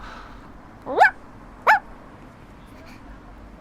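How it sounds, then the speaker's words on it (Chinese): Two short, sharp barks from a puppy, spaced about half a second apart, heard fairly near over quiet background noise. "是小狗啊！"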